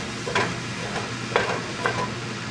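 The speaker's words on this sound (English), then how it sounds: "gonna stir it here for the first time and you'll see" Food is stirred in an oiled pan over a steady, close frying sizzle, with a few soft scraping strokes standing out at irregular intervals.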